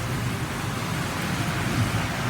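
Heavy rain pours down in a steady, dense hiss with a low rumbling undertone, continuous and even with no voices.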